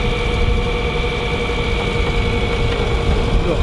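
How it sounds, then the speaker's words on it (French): Agexid autonomous tractor prototype at an agricultural show, its engine running at a steady idle with a constant low rumble and vibration, close and loud, with no clear talking. "La marque c'est Agexid, tracteur autonome."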